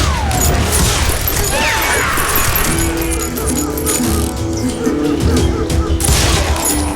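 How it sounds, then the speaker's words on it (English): Covering gunfire in the Wild West shooter Call of Juarez Gunslinger, loud rapid shots and ricochets mixed with crashes and rattling, with voices speaking over the sustained firefight. "Covering fire!"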